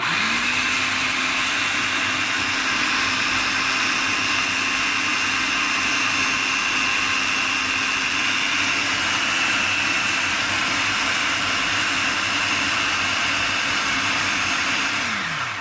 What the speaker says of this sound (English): we're gonna blend a little bit more